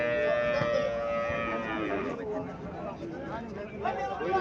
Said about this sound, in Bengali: এখানে একটা হরিয়ানা জাতের গাভী দেখা যাইতেছে।